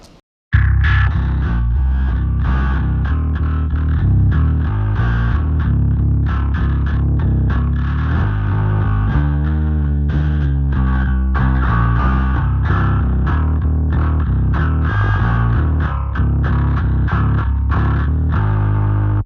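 Distorted electric bass played through the EQ section of the Mammoth Bass amp plug-in, a continuous run of loud, gritty low notes with effects coloring, close and dry for about eighteen seconds with no talking.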